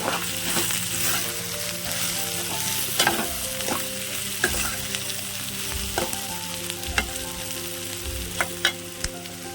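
Ivy gourd (dondakaya) frying and sizzling in a pan for a village-style curry, a steady close crackle with occasional stirring scrapes and clinks throughout, no talking.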